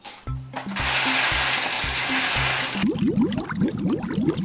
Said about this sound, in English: Do you guys hear that bubbling? It's getting pretty loud.